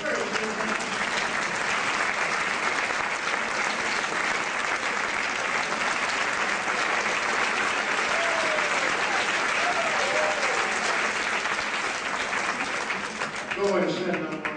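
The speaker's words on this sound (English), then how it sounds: "let's give Susan a round of applause" Sustained applause from an audience at a talk, dense and steady for about fourteen seconds, with faint voices and cheers rising through it and talk returning near the end.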